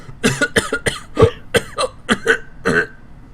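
A voice imitates coughing: a quick series of about ten harsh, close coughs and throat-clearing bursts in an uneven rhythm.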